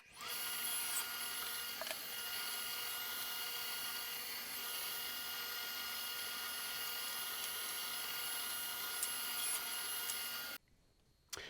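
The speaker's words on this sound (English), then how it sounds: "I've decided to move over to my table saw to cut them all to length" Table saw running in a workshop while cutting hardwood pieces to length, a sustained loud whine with faint changes as the blade bites, cutting off abruptly near the end.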